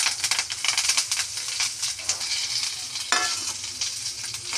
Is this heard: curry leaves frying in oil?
yes